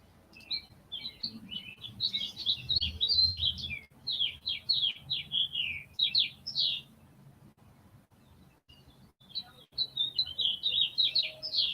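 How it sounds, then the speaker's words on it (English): Loud, busy bird chirping in rapid bursts of high tweets, pausing briefly before resuming, with a low background rumble underneath. "those birds are loud. Can you hear them chirping?"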